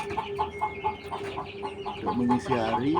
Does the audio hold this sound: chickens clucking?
yes